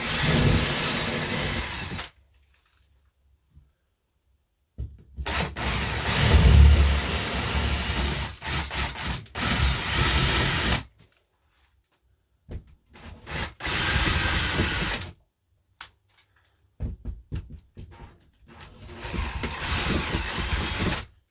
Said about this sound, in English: I'm going to go ahead and put a hole here